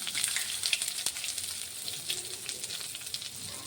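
Nigella seeds crackling in hot oil in a pan, a dense bright sizzle with fine popping spatters that holds steady and close throughout, no voices.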